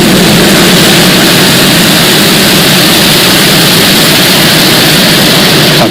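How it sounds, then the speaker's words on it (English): A SpaceX Falcon 9 rocket launching 52 Starlink satellites gives a loud, steady, broadband roar from ignition through liftoff, unbroken and without speech. "Ignition. And liftoff."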